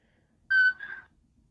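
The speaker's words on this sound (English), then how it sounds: "I just start whistling to get on his nerves" A person whistles a short two-note phrase alone, a bright clear tone that steps down slightly, close and moderately loud, then stops into quiet.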